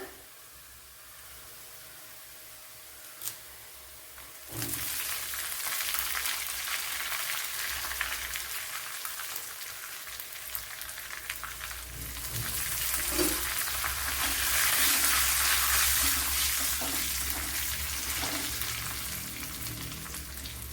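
Green chillies and curry leaves fry in hot oil for a Kerala-style snake gourd masala curry. Soft background hiss jumps to a loud, steady sizzle as they drop in, and it swells near the end.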